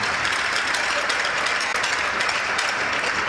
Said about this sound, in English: let's have a big round of applause for all our military veterans